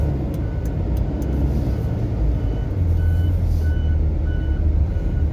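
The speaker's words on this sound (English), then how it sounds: "Make sure he's not gonna, doesn't have his bumper backup beeper on." Backup beeper of a plow truck doing rock runs on a mountain road near a rock slide after a wildfire, repeating steady, moderately distant tones over a loud constant engine and road rumble.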